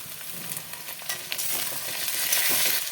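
A ginger, garlic and green chili paste with ground spices is sautéed with radish and potato in a pan for a dried fish curry. The sizzle is soft and builds gradually, with occasional light stirring clicks and no speech.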